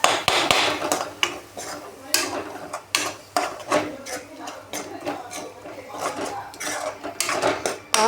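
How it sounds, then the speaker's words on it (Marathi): A spoon clanks and scrapes around a pan while tomato gravy is mixed into a Marathi drumstick curry, with repeated close metallic knocks and stirs in an irregular rhythm. "आता ती ग्रेव्ही आपण यामध्ये पूर्ण मिक्स करून घेऊ"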